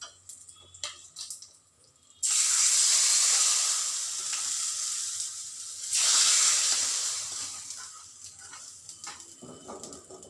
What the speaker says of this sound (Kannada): ಈಗ ಒಗ್ಗರಣೆ ಕೊಡ್ತಾ ಇದ್ದೀನಿ.